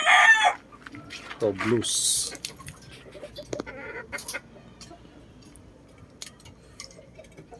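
A bulik rooster in a cramped backyard coop crows loudly near the start, then clucks and calls intermittently amid people talking nearby.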